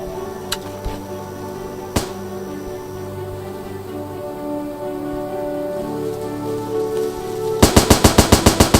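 Rapid automatic gunfire from the Starbound game bursts in near the end as a loud, evenly spaced string of shots, preceded by a few isolated sharp cracks over a humming background.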